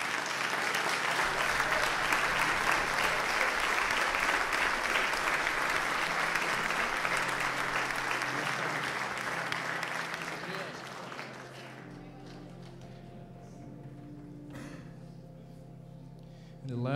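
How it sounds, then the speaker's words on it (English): Audience applause for the graduating seniors of a school choir at a church concert, loud and sustained with dense clapping for about eleven seconds, then tapering off into quieter room sound. "let them clap for you"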